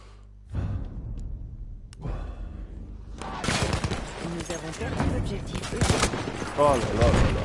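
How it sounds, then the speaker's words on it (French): Shotgun blasts in the Battlefield 1 video game, loud close reports amid chaotic battle noise, with a quieter opening before the firing intensifies, and people talking over it. "fusil à pompe"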